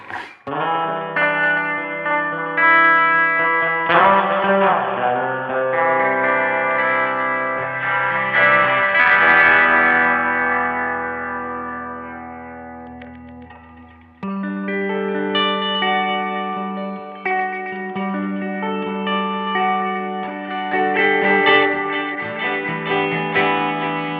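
A BOSS RE-20 Space Echo running all three tape heads plus reverb turns instrument notes into dense, cascading repeats that wash and blur together, a steady wall of delayed tones with a brief dip midway, no talking.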